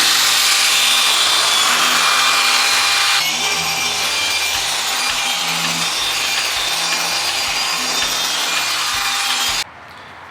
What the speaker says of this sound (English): I have the polisher at about 5 to 4 speed. I'm just gonna polish this bad boy out.